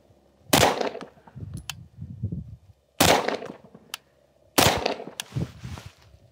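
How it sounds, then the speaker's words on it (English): Three sharp gunshots fired at a target with iron sights, each loud crack spaced a couple of seconds apart and followed by a short echoing tail, close and clear outdoors with no talking. "I'm shooting faster than the other pair."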